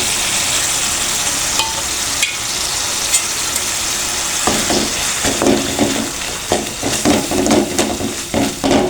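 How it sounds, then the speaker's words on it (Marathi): Ground spice paste and masala frying in oil in a pan: a steady close sizzle, with louder stirring clatter and scraping bursts in the second half, no voices. "मसाले चांगले तेल सुटेपर्यंत फ्राय करून घेऊ, चांगलं तळून घेऊ"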